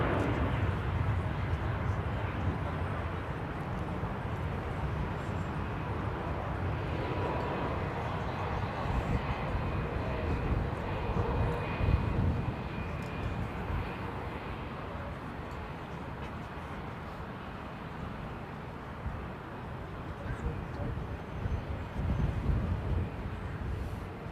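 Airliner engines at London Heathrow Airport give a steady, broad, roaring rumble that swells slightly and fades, with faint talk underneath.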